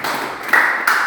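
A group of students applauds themselves in a classroom after presenting a road-sweeping machine project, a dense burst of many hands clapping at once that swells twice within a second.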